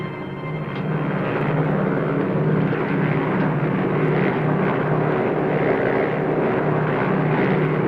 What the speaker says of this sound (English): one lone American C-47 transport wings its way into hostile territory with a special payload